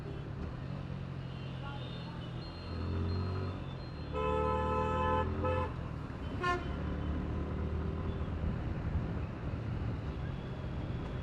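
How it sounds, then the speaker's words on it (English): A 2019 Suzuki Gixxer 150 motorcycle idles nearby, then a few sharp throttle blips rise briefly above the low idle before it settles back to a steady putter. "Let's see how the throttle blips are."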